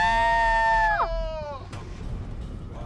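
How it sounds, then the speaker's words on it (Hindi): Two cartoon characters in a Hindi horror story let out a loud, high, wavering shared scream that bends sharply downward, then breaks off into a quieter, rumbling background with a faint click. "फिर एक चीख दोनों के मुंह से निकली।"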